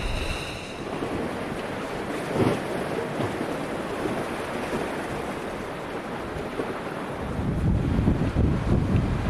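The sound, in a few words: strong wind and waves on Thomas Island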